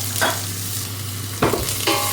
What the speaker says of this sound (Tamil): அதுக்கப்புறம் வட்டி வச்சுக்கிற வெங்காயம் போடுறேன்.